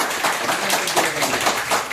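A meeting audience applauding, steady dense clapping from many hands throughout, fairly loud and close.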